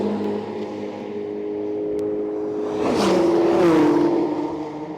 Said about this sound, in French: Regarde-moi ça, la Ferrari préparée.